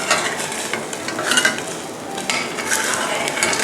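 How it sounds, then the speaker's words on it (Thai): A spoon stirs a light sauce for dim sum in a pot so the seasoning dissolves, giving continuous close scraping and swishing with a faint sizzle underneath and no talking. "คนให้เครื่องปรุงละลายนะคะ"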